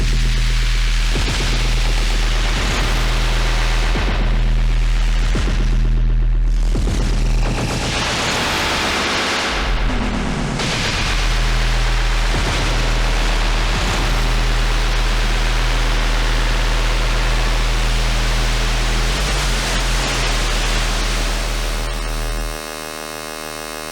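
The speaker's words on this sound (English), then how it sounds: "And we've got this real drone machine. Just brightened up the feedback there on the, brightened up the delay." An Erica Synths Perkons HD-01 drum machine playing a dense, loud drone with bright delay feedback, a continuous noisy wash with pulsing low tones and shifting textures, no talking.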